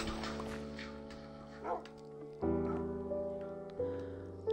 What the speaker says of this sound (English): what should we name the new dog?